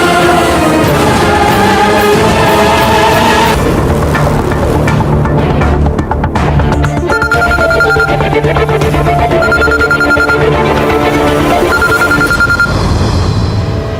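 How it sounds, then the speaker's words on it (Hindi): A mobile phone ringing repeatedly during a Hindi TV drama scene, a loud, steady electronic ringtone with a repeating melodic tone over a musical background score. "इश्की का फोन बार बार बज रहा है"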